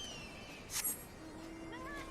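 The fat cat mount in Final Fantasy XIV gives a single short meow in the middle of a quiet game soundscape, with soft electronic tones and a low hum beneath it.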